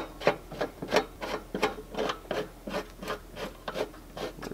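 Rhythmic rubbing and rasping strokes as a strap is tightened on the base of a bovine injection simulator, about a dozen short pulls in steady succession, close and fairly quiet.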